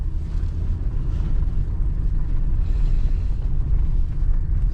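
A vehicle driven alone by a young driver at a little over 20 mph gives a loud continuous low rumble with wind buffeting against the microphone, unbroken and steady throughout.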